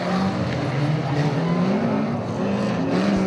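Banger racing cars roar continuously around an oval track at Arena Essex, engines droning loud and close with shifting pitch as they circle, no talk over them.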